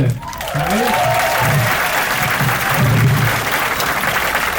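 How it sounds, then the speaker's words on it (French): An audience claps and cheers in a sustained burst of applause, loud and dense throughout, with a voice briefly audible at the start. "applaudissez-vous s'il vous plaît"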